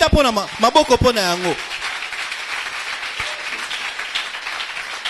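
A church congregation breaks into sustained applause and clapping right after someone speaks briefly in French, the clapping filling the room evenly to the end.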